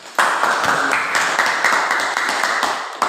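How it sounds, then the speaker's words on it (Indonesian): A classroom audience gives a short, steady burst of applause for the first group, fairly close and loud, filling the few seconds before stopping abruptly. "Kasih tepuk tangan untuk kelompok 1."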